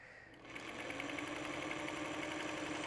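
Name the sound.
sewing machine stitching over a seam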